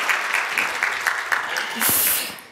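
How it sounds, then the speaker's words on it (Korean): Church congregation applauding to welcome visiting students during a Sunday morning service, steady clapping filling the room with a brief louder swell near the end. "우리 큰 박수로 환영하겠습니다"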